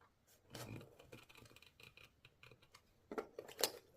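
Scissors cut through a plastic jerrycan in a few quiet, close snips and crunching clicks, irregular and faint, with no talk.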